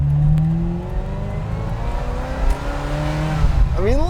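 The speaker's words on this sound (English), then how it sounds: "it's still got that great Ferrari V8 noise" A 1989 Ferrari Mondial T V8 drones steadily from behind the cabin while cruising, its tone climbing and easing with throttle before a sharp rising rev near the end.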